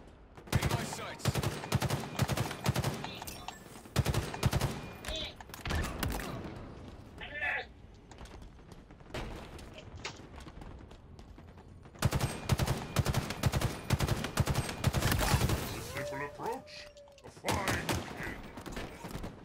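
Enemy gunfire in the arena shooter Halo Infinite: repeated bursts of automatic fire rattle through most of the clip, loud and fairly close, with short pauses between volleys and occasional game voice prompts.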